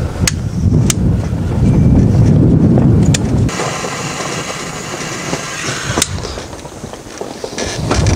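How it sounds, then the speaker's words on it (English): Gusty wind buffets a microphone outdoors while cold smoking cheese, a loud low rumble that drops in force midway, with a few sharp clicks and faint background noise. "So windy out here is blowing it off."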